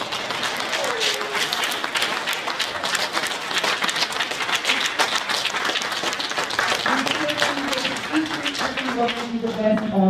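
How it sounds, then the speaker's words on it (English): Audience applause at a mayoral candidates forum held at the FOP hall in Birmingham, with steady, dense clapping from a crowd lasting about ten seconds and voices mixed into it. "Can we give these candidates a round of applause?"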